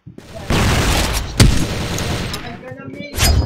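A flash grenade goes off in the shooter CrossFire during a clan match, one sharp loud blast among bursts of gunfire and booms, with a voice calling out nearby.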